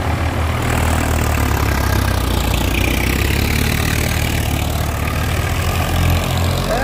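A Swaraj 855 tractor idles nearby with a steady, loud, low diesel rumble that holds constant throughout the clip.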